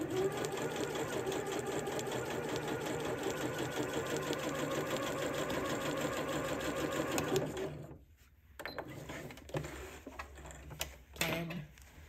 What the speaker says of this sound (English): I am going to go ahead and put my machine to a stitch length of 5mm, which is the longest running stitch